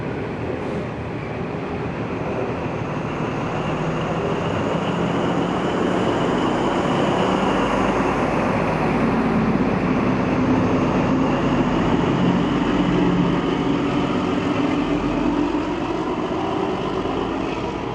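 Two trains, 2019 and 2004, pull away toward Sydney in New South Wales, a steady broad rumble of rolling stock and engines that swells slightly and holds through, with no voices.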